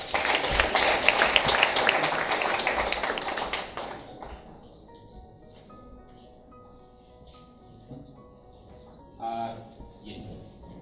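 An audience applauds at an award ceremony during a moot court competition final, with dense clapping for about four seconds that quickly fades into quiet room noise. A brief voice and a few knocks come near the end.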